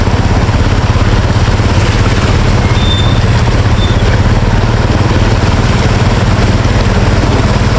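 A van engine idling behind the vehicle during typhoon flooding, a steady loud low rumble running without pause, close by and unchanging throughout.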